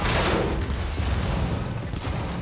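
Dense, loud, continuous burst of gunfire and explosive noise from combat in the video game Cyberpunk 2077, filling the whole moment without a break.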